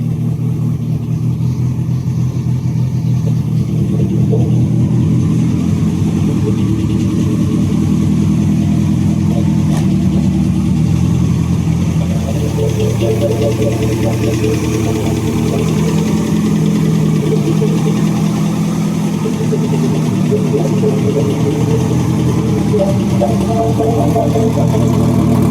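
A drag car engine with a dog-box transmission runs steadily after a cracked piston pin, its second-hand pistons carrying extra clearance and a slight piston noise; a loud, continuous close rumble with a low, even throb throughout.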